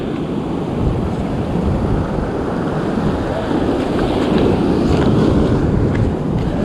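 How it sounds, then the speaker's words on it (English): Ocean waves surge against rocks on the Wollongong coast while strong wind buffets the microphone, a loud, continuous roar that swells toward the end. "Freaking waves are crazy."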